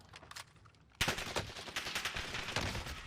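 Rapid automatic gunfire from the video game Warzone Caldera, bursts of loud close shots starting abruptly after a quieter first second and continuing in dense, crackling volleys.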